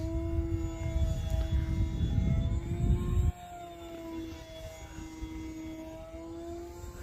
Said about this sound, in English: You can just see how maneuverable this airplane is